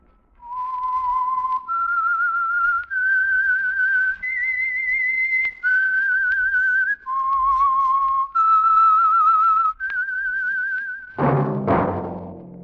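A solo whistled melody serving as the theme of the Signal Oil radio drama The Whistler, a clear, close tune of about eight sustained notes with slight vibrato, ending in a swell of orchestral music.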